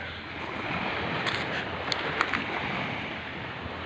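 Soft, steady wash of gentle sea waves on a beach at Armutlu, Turkey, with a light rush of wind, calm and even throughout.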